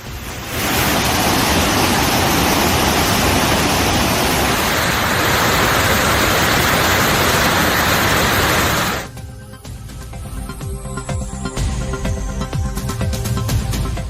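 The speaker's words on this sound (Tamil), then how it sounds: "கொடைக்கானல் வனப்பகுதிகளில் பெய்து வரக்கூடிய கனமழையால் சுருளி அருவியில் தொடர்ந்து 2வது நாளாக வெள்ளப்பெருக்கு ஏற்பட்டிருக்கிறது" Suruli waterfall in heavy flood after downpours in the Kodaikanal forest, a loud, continuous roar of rushing water for about nine seconds, then dropping to a quieter rumble with scattered tonal interference.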